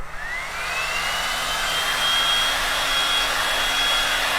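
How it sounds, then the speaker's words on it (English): A heat gun blowing hot air to dry clay paint on furniture, a steady close whirring roar with a thin rising whine as it spins up, with no talk. "Let me dry it with my heat gun"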